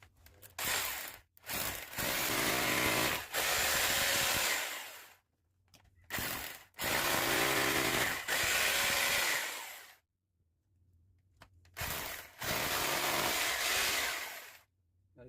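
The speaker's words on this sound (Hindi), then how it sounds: "इतने प्यार से छेद हो रहा है ना" Power drill boring a hole into a wall with a 10 mm bit while mounting a TV, loud close whining bursts of several seconds each separated by short pauses, with no talk over it.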